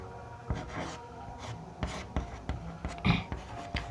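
Chalk tapping and scraping on a board during a maths lesson, a run of short sharp strokes and taps in an irregular rhythm, close and fairly quiet against a faint room hum.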